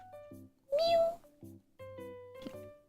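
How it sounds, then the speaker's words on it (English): A kitten in the Love Curse video game gives a few short, high meows in quick succession, close and clear, interleaved with brief tonal game sounds. "Meow."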